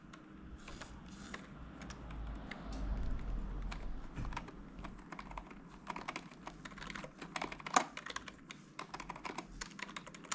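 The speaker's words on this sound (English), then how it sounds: "press the delete and or F2 key for login the BIOS screen" Computer keyboard keys are pressed repeatedly to enter the BIOS, giving a quick run of close, sharp clicks and taps over a faint low hum.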